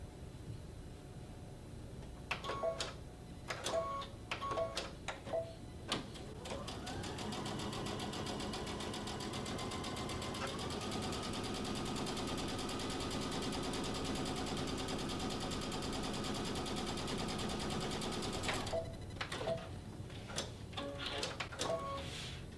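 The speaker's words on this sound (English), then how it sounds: "I should be able just to sew right down the line" A sewing machine stitches quilt fabric pieces together. Short clicking bursts give way to a long, steady, fast mechanical whir that runs close up for about twelve seconds, then stops and returns to scattered clicks.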